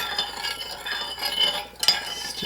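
A utensil stirs a homemade hand sanitizer mixture of glycerin and jojoba oil in a container, giving steady scraping and faint clinking strokes for a few seconds, with one sharper tap near the end.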